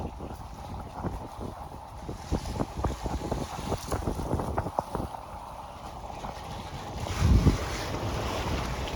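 Wind gusts across a pier on Lake Chapala in Mexico on a windy day, rumbling and buffeting the microphone with soft splashing water beneath and a heavy burst of wind noise near the end.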